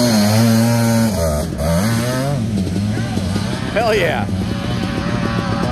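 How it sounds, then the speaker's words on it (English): A Suzuki Quadzilla 500cc two-stroke quad revs hard on a hillclimb, its engine pitch rising and falling in loud, raspy surges, with a voice cheering over it. "Quadzilla, yeah. 500 cc's and two-stroke power."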